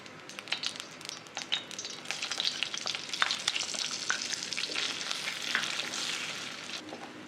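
Gram flour roasting in ghee in a pan, a continuous soft sizzle with frequent scraping strokes of a spoon stirring it, close and steady with no voices.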